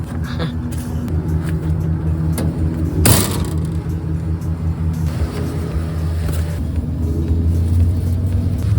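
Van driving on a road toward Edmonton, giving a steady low engine and road rumble throughout with a brief louder burst near the middle and no talking.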